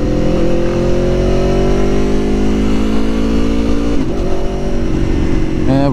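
An Aprilia Tuono motorcycle ridden through traffic, its engine a loud, close, steady drone whose pitch slowly falls, then shifts around four seconds as the revs change.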